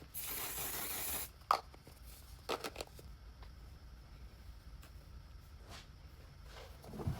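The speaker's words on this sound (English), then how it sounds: "I got this viral setting spray." A short, loud hiss of makeup setting spray about a second long, followed by quiet rustling and handling noises.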